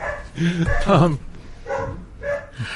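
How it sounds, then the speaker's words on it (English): A dog close to the microphone lets out several barks and yelping whines in uneven bursts, loud against an otherwise quiet room. "Sorry about the dog"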